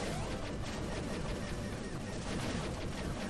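Triple missile sub-weapon firing in the Blaster Master Zero video game: a dense, continuous barrage of explosive blasts with crashing impacts, packed tightly together with no pauses.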